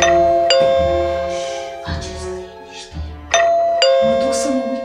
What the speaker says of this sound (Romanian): Nebunește, Soneria asta!